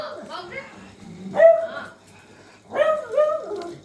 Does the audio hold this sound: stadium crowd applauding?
no